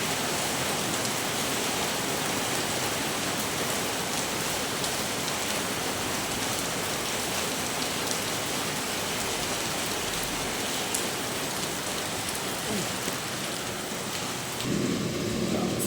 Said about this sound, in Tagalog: Salamat naman sa ulan.